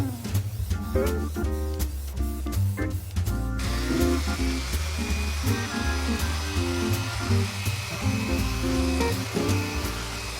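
A power sander grinds steadily across painted pallet wood boards, with a continuous buzzing whir and repeated clicks and scrapes as the boards are distressed and smoothed, close and loud without talk.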